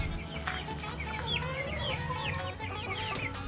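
Dekalb Brown chickens cluck steadily and close by on a small free-range farm, a dense run of overlapping clucks and calls filling the whole stretch without any talk.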